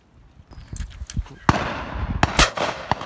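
A shotgun fires during a pheasant shoot outdoors, a sharp close report among several loud cracks and thumps, with brief voices around it.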